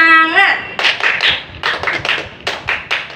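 A group of people performs a rhythmic 'tepuk semangat' chant-clap in a classroom, sharp bursts of hand claps in a patterned sequence following a spoken lead-in.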